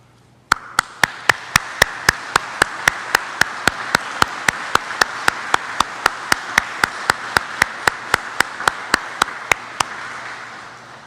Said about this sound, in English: give your family a round of applause, please